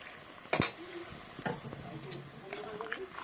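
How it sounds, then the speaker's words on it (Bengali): Pumpkin, spinach, onion stalks and potato stirred in a pan, with a few scraping knocks of a spatula and a faint sizzle in a quiet kitchen. "এভাবে সবজিটাকে একটু নেড়ে নেবো ভালোভাবে।"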